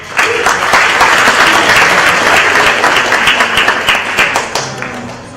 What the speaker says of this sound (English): Can we all give them a round of applause, please?